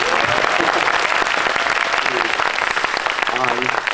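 Audience applause at a guest-visit screening of the Netflix action film Carter, with dense, loud, continuous clapping from a cinema crowd that fills all four seconds.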